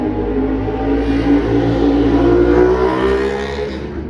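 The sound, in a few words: motorcycles revving nearby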